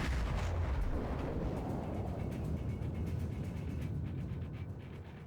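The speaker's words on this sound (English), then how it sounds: "Secondary guns shooting at a destroyer that is pursuing it." A warship's secondary guns fire repeatedly at a pursuing destroyer in World of Warships, a dense barrage of booming blasts and rumbling reports blending into continuous heavy noise.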